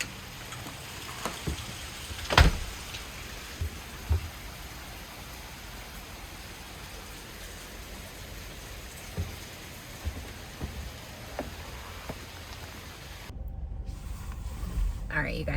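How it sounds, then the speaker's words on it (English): Heavy rain pours outdoors near a store parking lot, making a constant hiss with scattered heavier drops and knocks. A brief rustling clunk sounds near the end. "It's raining so hard"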